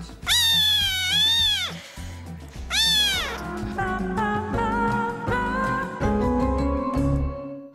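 Munchkin cat meowing: two long, loud rising-and-falling meows close by, followed by a stretch of busy background sound, with no talking.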